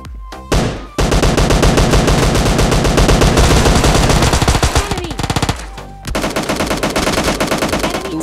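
S12K shotgun fire in a video game arrives as loud, rapid bursts of close blasts in quick succession, pausing briefly twice before resuming, with no talk over it.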